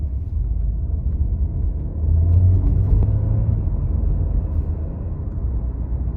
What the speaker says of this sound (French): je vais tester une petite accélération